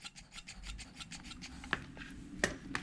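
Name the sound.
MightyVac hand vacuum pump being pumped to bleed brakes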